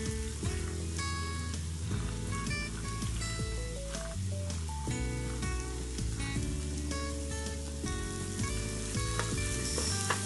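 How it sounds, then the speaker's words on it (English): Beans and carrots sautéing in a pan for chicken fried rice, a steady sizzle heard beneath continuous loud background music, with no talk. "Just saute all these for 2 to 5 minutes."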